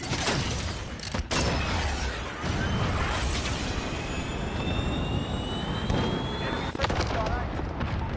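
A cruise missile launches from a UAV in a military video game: a loud, sustained jet-like roar with rising whines and sharp bangs, constant throughout, with faint voices underneath.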